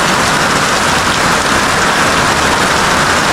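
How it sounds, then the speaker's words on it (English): Heavy rain drumming on zinc roofing at a village homestead, a loud, dense, unbroken hiss that holds steady throughout. "Enjoy rain, yeah."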